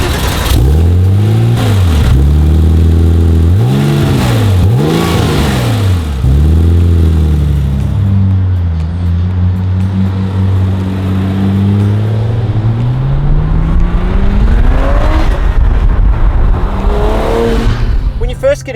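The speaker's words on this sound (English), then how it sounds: "you get that very distinct flat six thrum from the back" A 1996 Porsche 911 Turbo 993 with its flat-six engine pulls hard through several gears, the pitch climbing and dropping with each shift, then settling into a long, steady rising drone, loud and close throughout.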